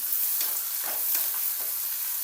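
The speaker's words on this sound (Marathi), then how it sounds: "कापलेला कांदा टाकायचा। कांद्याला परतून घ्यायचं।" Chopped onion sautés in a pan with mustard seeds, cumin, garlic and garlic greens for a spicy besan dish, giving a steady, close sizzle broken by several soft scraping stirs.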